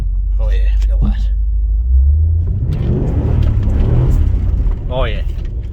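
A Jeep Grand Cherokee WJ in low range idles with a deep rumble, then its engine is given a hard rev that swells and fades over a few seconds, close by, with brief voices around it.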